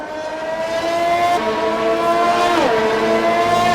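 Formula 1 race car on the Monza circuit at the Italian Grand Prix, a loud, close, high-pitched engine scream with rich harmonics that climbs and then drops sharply as it shifts or passes.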